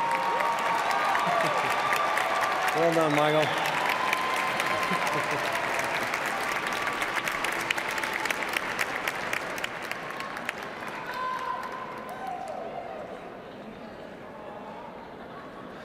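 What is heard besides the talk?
audience applause at a graduation convocation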